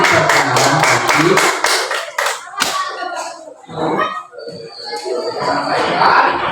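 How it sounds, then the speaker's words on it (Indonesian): Primary school class of third graders clapping in unison, a quick rhythmic burst of claps that stops abruptly, followed by a teacher speaking and a few light taps and chuckles. "Tepuk tangan lagi"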